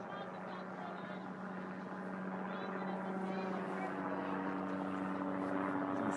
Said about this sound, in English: You see the helicopters just circling around